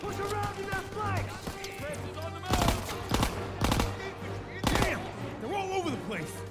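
Sustained bursts of machine gun fire from an MG position on a staircase during a Call of Duty WWII campaign battle, with loud clustered volleys and shouted voices over the gunfire.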